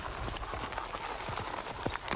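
Horses' hooves clip-clop in an irregular patter from a mounted cavalry unit operating in arid bush country, several sharp steady footfalls close by over a noisy, hissy background.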